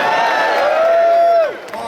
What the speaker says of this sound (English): Neil Hamilton, give him a big hand.